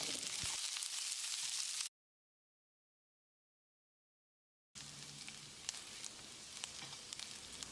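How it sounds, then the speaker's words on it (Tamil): Steady hissing sizzle of sliced onions frying in a pan, broken by a few seconds of silence before the crackling resumes at a similar level. "வெங்காயத்தை நல்லா பொன்னிறமாக வதக்கிடலாம்."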